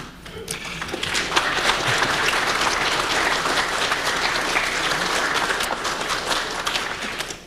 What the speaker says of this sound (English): You're right to applaud